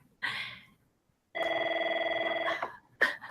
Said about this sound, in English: now I've got Sharon's phone ringing